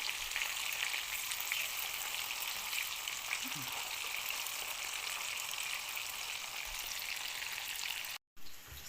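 Sausage and pork fry steadily in a pan, a dense, even sizzle and crackle running the whole time at close range with no talk, broken by a brief dropout near the end.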